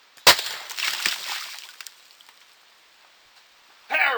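A micro blaster charge goes off to split a boulder while someone hunts for gold nuggets. One sharp, loud crack is followed by a scatter of falling debris that fades out, then a short noisy burst at the end.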